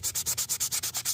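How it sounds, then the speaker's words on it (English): Sandpaper scrubs a guitar fretboard to remove sanding scratches, in quick rhythmic back-and-forth strokes, about nine in a second, close and steady with no talking. "I'm just trying to get these sanding scratches out of this fretboard"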